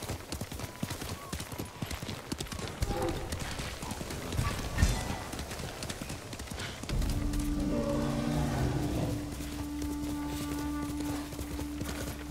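Rapid hoofbeats of a galloping horse in Ghost of Tsushima clatter steadily, then a low droning tone joins in for the second half, with a faint voice briefly underneath.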